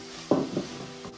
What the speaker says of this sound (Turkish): İyice kavuruyorum. Şimdi yeşil mercimeği koyuyorum.